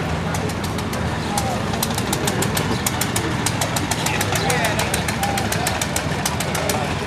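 Tractor engines idle at a tractor parade at the Red Power Round Up, a continuous low chugging with steady rapid ticking and faint voices in the background.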